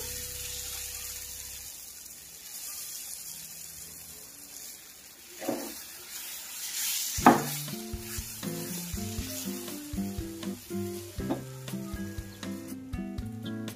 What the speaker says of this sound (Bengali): এবার আগে থেকে বেটে রাখা ডালটা দিয়ে দেব